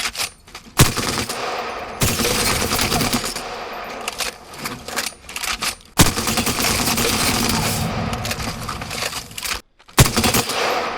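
Rapid bursts of Apex Legends video game gunfire run through a compressor, dense automatic fire with a few brief pauses and sharp single shots, loud and close throughout.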